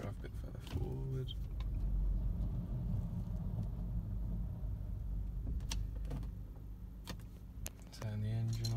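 An Audi A3 8P rolls slowly forward, its engine giving a steady low rumble throughout, with a voice heard briefly at the start and again at the end.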